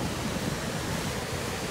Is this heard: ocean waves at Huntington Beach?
yes